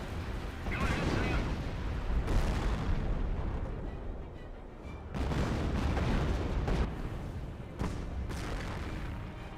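Battle audio from the Company of Heroes video game, with 240mm rockets and mortar fire heard as repeated heavy booms and explosions over a continuous rumbling combat backdrop, loud and dense throughout.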